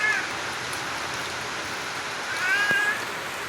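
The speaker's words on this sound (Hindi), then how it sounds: "वापस घर आने वाले थे तो उससे पहले बारिश शुरू हो गई।" Rain falls in a village with a steady, even hiss, and a cat meows faintly twice over the downpour.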